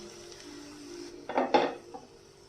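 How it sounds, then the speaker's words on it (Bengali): A metal lid lifts off a cooking pan with a couple of sharp clanks, and soft sizzling from the food underneath is briefly heard. "ঢাকনাটা একটু খুলছি।"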